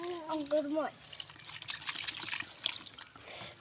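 Water splashing and trickling over a child being bathed at home, a soft continuous pour that follows a brief burst of speech.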